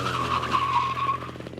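Go-kart tires screeching in a sustained skid during a kart race, a steady squeal over engine drone that fades toward the end, moderately loud.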